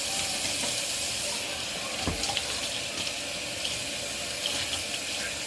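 Steady running water from a sink tap while makeup brushes are rinsed of soap, a constant close hiss with faint splashes and small knocks, no talking.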